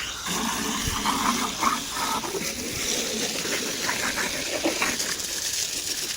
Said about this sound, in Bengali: আমি হালকা করে পানি মেরে দিচ্ছি